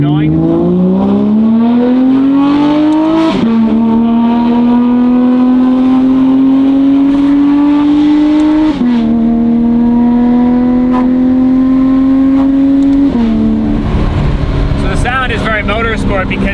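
Porsche 992 GT3 RS fitted with RSR exhaust and longer-runner headers, its flat-six revving loudly in rising pulls toward about 6,000 rpm, with brief dips between pulls and a smooth, sustained high-pitched wail.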